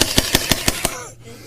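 A toy Tommy gun fires a rapid, loud burst of six evenly spaced cracks, then stops and leaves a fading ringing tail.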